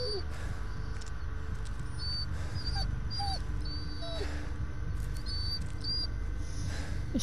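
Dog whimpering in the horror game Blair Witch, a series of short high whines and yelps spread across the moment over a low ambient rumble.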